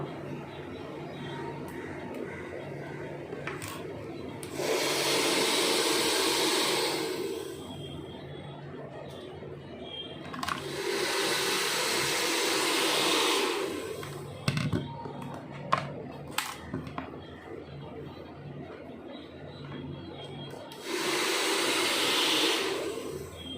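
A handheld hair dryer runs with a brush during a salon blow dry, steady whooshing airflow bursts of several seconds each, switching on and off three times, fairly close, with quieter room noise between.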